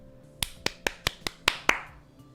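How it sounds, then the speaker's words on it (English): Seven sharp single hand claps in a quick, slightly uneven rhythm, close and crisp in a quiet room, each ringing briefly, the last one louder with a short tail. "This is how I clap."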